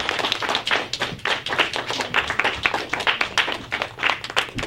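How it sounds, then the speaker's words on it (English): A debate audience applauds, giving rapid, dense clapping that stays fairly loud and steady throughout. "Give the inside a round of applause,"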